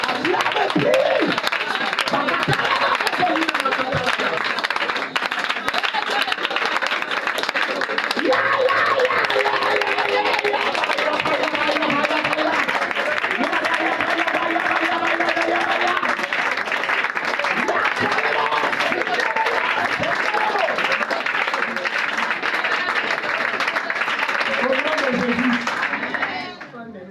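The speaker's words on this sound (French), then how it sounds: "Acclame le prix, acclame le prix, acclame le prix." A congregation at an evening prayer meeting claps and cheers steadily, a loud, dense wash of applause and crowd voices that holds for nearly half a minute before dropping off abruptly at the end.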